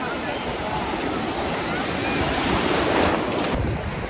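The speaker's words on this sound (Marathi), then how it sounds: "लय लाटा आहेत आणि मजा येते समुद्र किनाऱ्यावरती, किनारपट्टीवरती लाटा." Sea waves breaking on a beach, a continuous loud roar of surf with gusting wind buffeting the microphone throughout and a swell building near the end.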